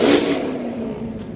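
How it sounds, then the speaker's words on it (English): A Chevrolet Camaro drives by on the road, a steady engine roar and tire noise that swells briefly at first and then holds at a moderate level for a second or so, with no voices. "This Camaro's driving by."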